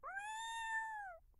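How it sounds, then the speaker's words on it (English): A cat in an animated comedy lets out a single drawn-out meow lasting just over a second, clear and close, with no talking. "Oh my God, my mother's cat's still alive."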